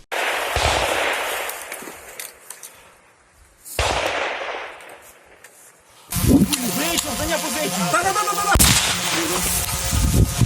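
Gunfire erupts during an infantry assault on enemy positions, with bursts of shots and sharp impulsive cracks, loud and close, mixed with shouted voices and radio-like chatter throughout.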